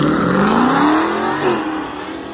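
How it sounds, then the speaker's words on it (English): A Volvo 240 wagon drag car launches from an inclined burnout box at a hot rod drag racing event, its loud engine wailing higher as it pulls away. The sound is brief and close, with no talking. "Coming out of our inclined burnout box, we have the 240 Volvo wagon, like Benny, except a little different gear."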